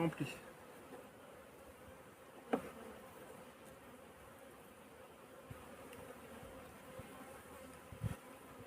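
Honeybees buzz in a dense, continuous hum during a beehive inspection, quiet but steady, with a few clicks and knocks from handling the hive.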